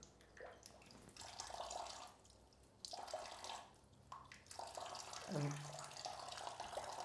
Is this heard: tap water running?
yes